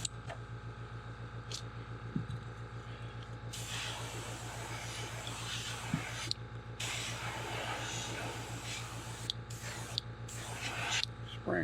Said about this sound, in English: Spraying good now.